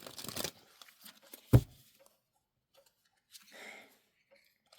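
Tarot cards being shuffled during a reading: a few brief papery riffles and taps, fairly close and quiet, separated by near silence.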